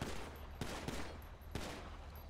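Gunshots from a firearm in a streamed game, a few sharp cracks spaced irregularly over steady background noise, with a faint high tone now and then.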